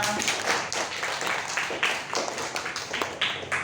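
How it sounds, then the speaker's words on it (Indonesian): A class of pupils claps their hands together in a quick, rhythmic run of claps, close and lively, filling the room for several seconds. "Tepuk tangan semuanya."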